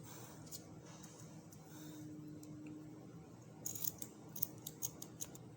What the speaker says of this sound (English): Then you cut it out. Let's cut it out.